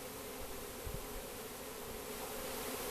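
A swarm of honeybees hums in a steady, dense drone, close and continuous, with no voices over it.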